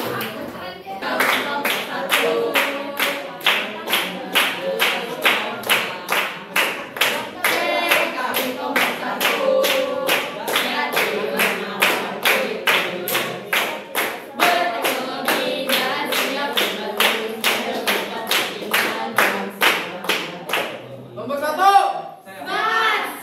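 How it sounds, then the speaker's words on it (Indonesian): Children clap their hands in a long series of sharp, evenly spaced claps, close and loud, with a voice speaking between and over the rhythm. "Oke, tepuk tangan."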